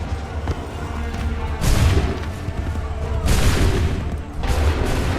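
Musket volleys ring out in the video game Assassin's Creed 3 as lines of soldiers fire together: three loud, crackling bursts of massed gunfire, each swelling and then dropping back.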